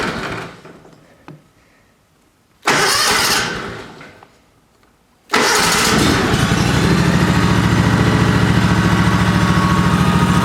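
A John Deere 757 ZTRAK mower engine cranks in two short bursts, then catches and settles into a loud, steady idle close by.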